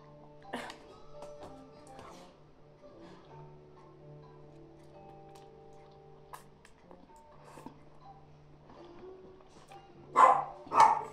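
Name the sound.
dog in the background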